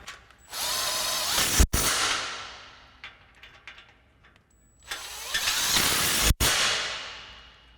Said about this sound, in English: So we'll use our 14mm swivel on our impact.